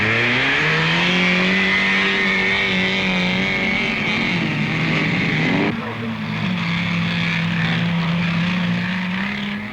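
A TBR autocross special car races round a 1970s autocross course, its engine note loud and steady with a sustained drone that shifts pitch midway as it changes gear or backs off, then carries on strongly.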